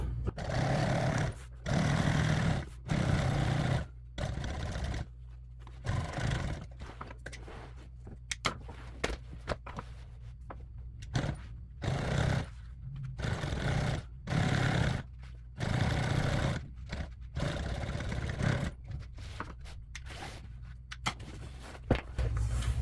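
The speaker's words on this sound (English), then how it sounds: "I usually lock that first stitch right there, and then start sewing." A sewing machine stitches car seat upholstery in a shop in repeated bursts of rapid mechanical whirring. Short pauses separate the bursts, and the sound is close and fairly loud.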